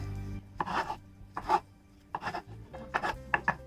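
Ripe Kerala ethapazham plantains are cut with a knife on a board, giving a series of soft, uneven slicing and rubbing strokes with short pauses between them, close and fairly quiet, with no voices.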